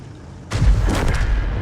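A World of Tanks M55 self-propelled artillery gun fires a single heavy boom, followed by a rumbling, crackling tail as the shell goes out and lands, loud and close with no voices.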